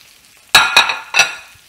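Asparagus tipped into a pan of melted butter and oil, giving three quick, loud bursts of sizzling and clinking as spears land and are stirred, each burst fading into a softer fry, with no talk.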